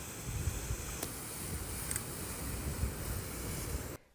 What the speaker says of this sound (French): Je vous ai laissé les bruits des vagues car c'est toujours apaisant je trouve